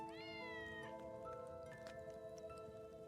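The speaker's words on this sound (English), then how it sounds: "Oh, I already hear a cat." A cat in the game Tales of Xillia 2 gives a clear, drawn-out meow with a falling pitch, over a steady musical drone of background game audio.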